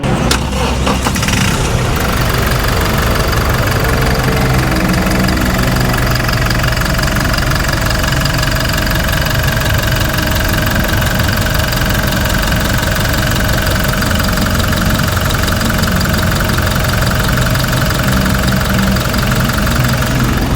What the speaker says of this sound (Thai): เดี๋ยวฟังเสียงเครื่องยนต์กัน